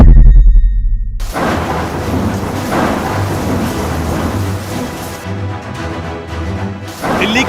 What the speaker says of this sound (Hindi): दिल्ली का यह दृश्य है जहां बेहिसाब बारिश हुई है